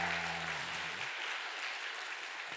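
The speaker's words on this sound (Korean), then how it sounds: "우리 환영의 박수 크게 하도록 하겠습니다" Welcoming applause from a church congregation during a Sunday service, a soft, distant, even wash of many hands clapping, with a brief sustained tone at the start.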